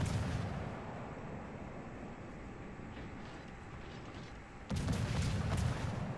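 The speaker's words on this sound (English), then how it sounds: "I'll try to hit him with the guns" Naval gunfire from a Vampire destroyer in a warship battle game: a steady rumbling barrage of distant booms that swells into a louder, closer burst of cannon fire near the end, with no talk.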